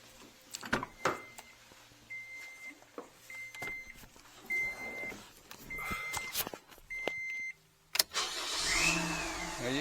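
A 2012 Scion iQ with a newly installed starter cranks and fires up. Several short chimes and clicks come first, then the engine catches and settles into a steady, close idle.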